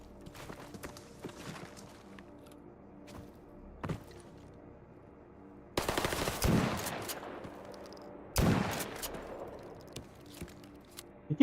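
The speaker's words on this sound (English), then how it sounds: "Keep shooting me in the leg." Gunfire in the video game Stalker Gamma: scattered shots and thuds at first, then two loud, dense bursts of rapid fire, with footsteps and no speech over the shooting.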